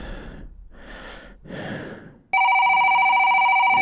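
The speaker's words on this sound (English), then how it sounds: "his phone rang." Heavy, shaky breathing in a quiet room gives way to a loud, sudden electronic telephone ring that cuts in sharply and sustains as a bright steady tone.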